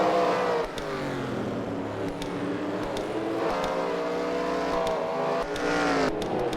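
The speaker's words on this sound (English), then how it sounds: "In a distant third place, you have the traffic jammer car for the Candyman." Racing cars circling a track during a CWRL World War Wall round, engines droning and revving continuously with rising and falling pitch as cars pass, fairly loud and steady throughout without talk.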